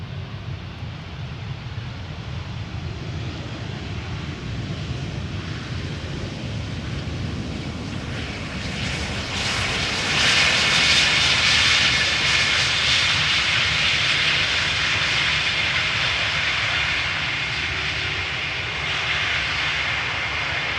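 Air Serbia Airbus A319 arriving at Amsterdam Schiphol on a crosswindy day, its jet engines a broad continuous roar that swells louder midway as the airliner passes nearby, with wind noise throughout.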